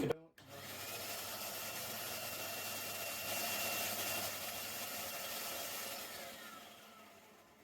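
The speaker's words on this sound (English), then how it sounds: "Bandsaw, I wonder if you're gonna work." A workshop bandsaw starts up and runs steadily with a loud, continuous whirring drone while cutting wood for a shed stool, holding a constant level for about seven seconds before easing off slightly at the end.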